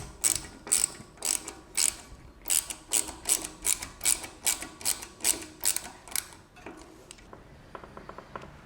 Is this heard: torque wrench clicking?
yes